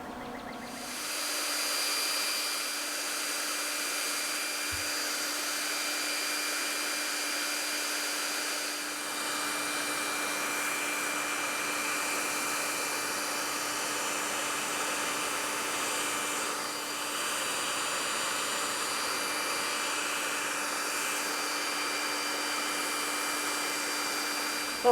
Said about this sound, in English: I'm just going to continue on here with the blow dryer